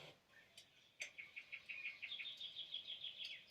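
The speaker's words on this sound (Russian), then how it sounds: "Здесь пение птиц" An electric fake fireplace plays its birdsong sound mode: faint background hiss, then a quick run of repeated high chirps and tweets that continues steadily after a soft click.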